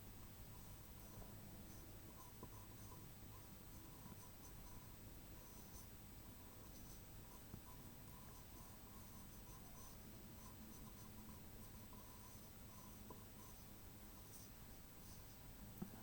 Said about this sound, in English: A little bit of shading in these corners here.